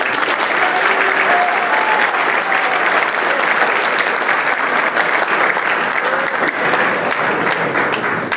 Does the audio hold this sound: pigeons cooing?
no